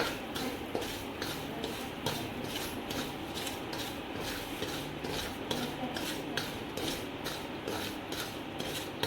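Semolina roasting in hot ghee in a pan for moong dal halwa, a steady scraping and stirring with a utensil against the pan, continuous and close, with no voices.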